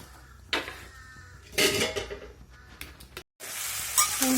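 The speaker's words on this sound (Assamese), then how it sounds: "এতিয়া মই এই মাংসখিনি ফ্ৰাই কৰি ল'ম" Chicken pieces frying in plain oil in a pan, with no salt or turmeric added, giving a steady sizzle punctuated by loud bursts of spattering and the clatter of a utensil against the pan.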